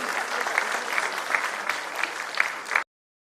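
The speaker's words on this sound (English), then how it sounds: "A warm round of applause, ladies and gentlemen." Audience at a regional AI conference in Meghalaya gives a steady round of applause, dense clapping sustained for nearly three seconds before stopping abruptly.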